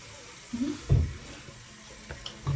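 Warm tap water runs into a bathroom sink during a morning face-washing routine, a faint steady trickle with a few louder splashes, heard up close with no talking.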